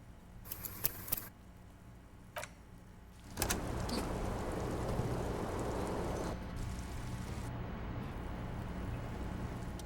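Rain in the video game Disco Elysium starts as a steady, even hiss after a few soft clicks and knocks. It then continues unbroken as a constant wash of background ambience.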